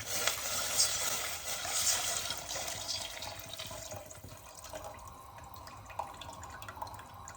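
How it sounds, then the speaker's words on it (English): Stock pours into a pot for Sicilian arancini rice, a splashing, trickling stream of liquid that is loudest at first and then settles into softer burbling and drips. "Pour in the stock."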